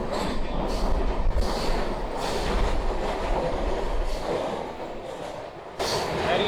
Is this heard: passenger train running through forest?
yes